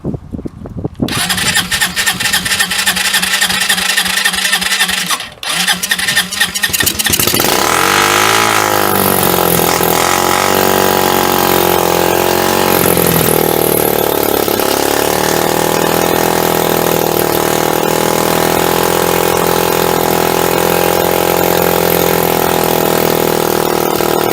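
A Hammerhead 250 SS engine cranks briefly, catches, and settles into a loud, steady idle that runs on continuously and close by, with no talk over it.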